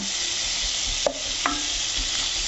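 Onion, garlic and spices such as pepper, paprika and chili sizzle in a pan, a steady close frying hiss broken by two quick stirring scrapes, with no one talking.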